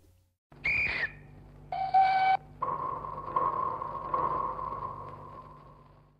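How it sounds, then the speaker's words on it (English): Three pitched, whistle-like tones in succession, each sustained and slowly decaying over a low steady hum, the last one long and fading out. "a series of three whistle pitched sounds with natural decay forms a cadence"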